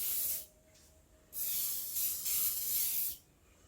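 Canola oil sprayed from a can onto a cob loaf: a short hiss, a pause, then a longer bursty spray of about two seconds, close and fairly quiet, with no talking.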